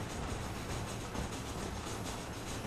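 Steady rolling rumble of a moving train in Red Dead Redemption, dense and continuous with a faint rhythmic clatter, heard alone without voices.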